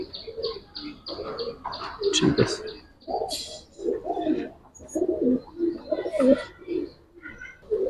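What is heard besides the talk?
Giribaz pigeons cooing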